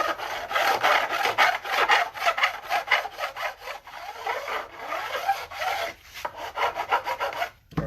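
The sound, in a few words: file grinding metal guitar fret ends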